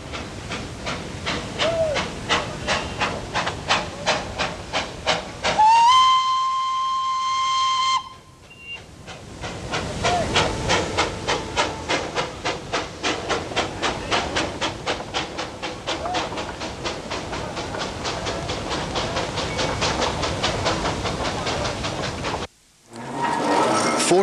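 A Darjeeling Himalayan Railway steam locomotive leaves in misty weather with the special saloons Everest and Himalayan Princess. It chuffs rhythmically and hisses, sounds one long shrill whistle blast, then chuffs on steadily before a brief break near the end.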